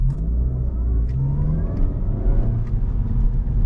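A 250 hp Honda Civic Si with straight-cut gears drives along, its engine droning steadily with rising gear whine, close and loud throughout.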